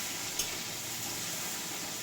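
Onions frying in a pan until reddish, a steady close hiss of sizzling oil with one brief clink near the start.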